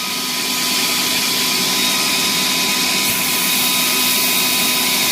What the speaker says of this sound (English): And then we'll test the bleed valve now.